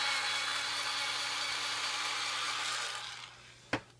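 A colored pencil is turned in a sharpener, giving a steady grinding scrape that lasts about three seconds, fades out, and ends with a couple of sharp clicks.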